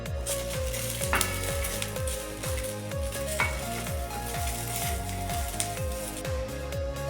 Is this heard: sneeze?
no